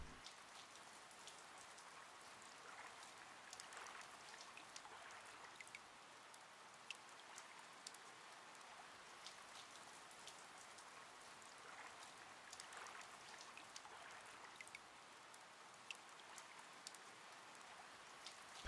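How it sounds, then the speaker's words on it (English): Steady rain patters and hisses across a surface in the god game GodSIM, a continuous soft wash with faint scattered drops, no voices. "Oh, it's raining again."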